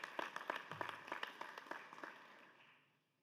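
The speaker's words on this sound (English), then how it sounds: "It's kind of an applause line, folks. You can clap for that one." Scattered audience applause in the Nebraska unicameral legislature chamber, a brief patter of a few people clapping at moderate distance that thins out and fades to quiet within about three seconds.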